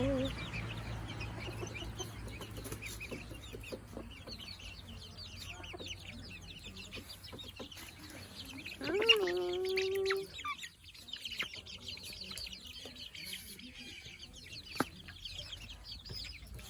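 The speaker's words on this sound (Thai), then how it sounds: "นี่นะคะไก่" Japanese chickens cluck softly around a backyard coop, with one louder drawn-out call standing out amid quiet, faint ambient sounds and small bird noises.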